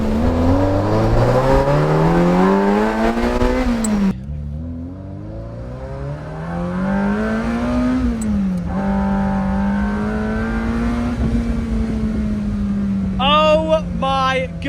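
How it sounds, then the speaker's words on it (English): A 40-year-old Ferrari V8 with a gated 5-speed accelerates through the gears, its loud engine note climbing steadily, dropping sharply at each shift and rising again, with a final rev swelling near the end. "does it sound like a perfect Ferrari V8 paired with that gated 5-speed"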